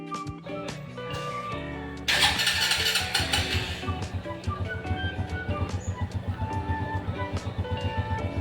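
A motorcycle engine catches with a sudden burst, then settles into a steady, rhythmic idle as it warms up, close by and loud, with no talking.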